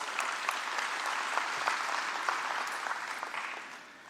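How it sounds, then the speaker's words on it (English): A conference audience at a national transport conference gives a round of applause, even dense clapping at moderate level that holds steady and then tapers off near the end. "a big round of applause."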